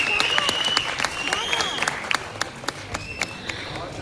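Crowd at a Tamil movie audio launch applauds as the music director is welcomed to the stage, scattered claps with sharp individual hits over a bright tone and murmuring voices.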